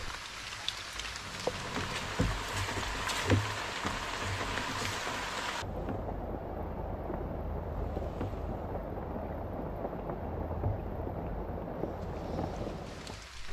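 Steady rain pours down in the jungle, a dense hiss of drops striking leaves and surfaces, continuous and close with no voices.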